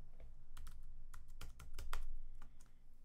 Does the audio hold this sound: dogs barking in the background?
no